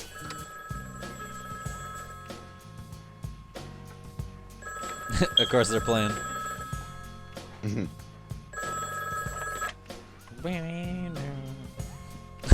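A telephone bell rings in repeated bursts within a played music video, mixed with a music bed while people talk over it.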